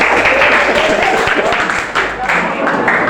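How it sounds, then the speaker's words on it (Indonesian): Students in a classroom clap back together, a brisk burst of hand claps that stays loud throughout, with voices talking over the applause. "Oke, tepuk tangan balik semua."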